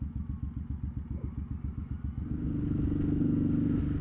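A big cruiser motorcycle rides along the road with a loud, even low engine pulse that swells into a rougher, fuller roar as it speeds up.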